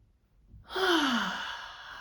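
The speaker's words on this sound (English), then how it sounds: "keep your shoulders nice and relaxed and just take a nice full breath" A single deep, full breath drawn in during a vocal warm-up, a close, soft airy inhalation rising after a brief quiet moment and sustaining to the end.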